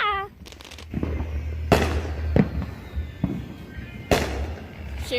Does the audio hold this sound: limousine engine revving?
no